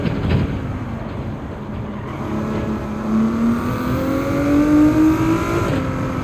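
A race car engine in Gran Turismo 7 drones steadily while its pitch climbs through the gears, loud and close with almost no talking over it.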